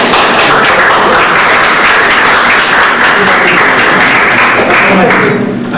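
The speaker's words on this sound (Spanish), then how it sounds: "les doy un aplauso" A seated audience at a lecture on integrating audiovisual and computer media breaks into loud, dense applause, clapping continuously and close by before tapering slightly at the end.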